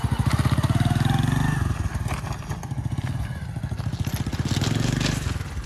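Motorcycle engine chugging close by with a rapid, throbbing idle pulse that swells and dips as the bike is manoeuvred out over a railway track, with some scraping and clatter mixed in.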